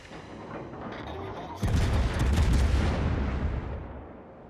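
Des Moines cruiser main guns firing in the World of Warships video game, a heavy rumbling salvo that booms in suddenly after a quieter stretch and rolls on for a couple of seconds before fading.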